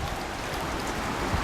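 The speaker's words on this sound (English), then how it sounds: "It's raining again." Steady rain falls outdoors near a bridge over a river, a continuous broadband hiss with no distinct drops and no voices.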